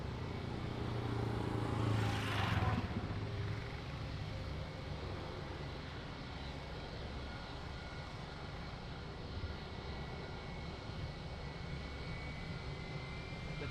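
A fixed-wing airliner takes off at Lisbon Airport bound for Barcelona, a distant sustained engine roar that swells briefly early on, then settles into a steady, faint rumble.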